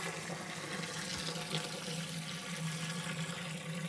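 Tap water runs steadily into a brewing pot being filled for an American amber mash, a continuous close rushing splash with no talk.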